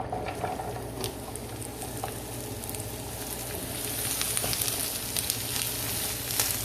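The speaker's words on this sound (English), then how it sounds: "So now we're going to throw our veggies in there." Vegetables hit a non-stick pan with Asian-style chicken and shrimp in garlic honey sauce, setting off a crackling sizzle that grows louder and busier toward the end, with light popping and scraping and no voices.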